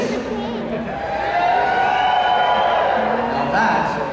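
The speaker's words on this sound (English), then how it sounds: "Now that was an example of how not to cheer for your knight of the realm" An indoor arena crowd at a Medieval Times tournament cheers for a knight, a sustained roar of whoops and shouts from many people that swells and then holds steady.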